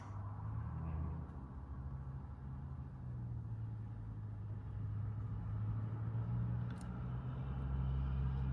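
Turbocharged Pontiac G8 under full throttle, a steady low engine drone heard from inside the car, fairly quiet and rising slightly in pitch and strength toward the end, with no talk.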